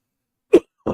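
A single short, sharp cough from a man with a lingering illness, close to the microphone, followed a moment later by a softer second burst after near silence.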